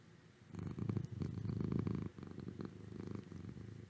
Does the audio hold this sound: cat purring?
yes